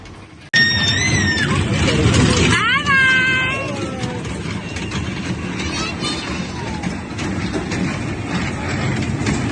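A child's small amusement train ride in an outdoor fun area, a low rumbling engine and clatter running steadily under chatter, with a sharp start, a couple of rising whistle-like tones and people talking nearby.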